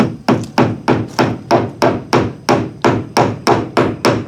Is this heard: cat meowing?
no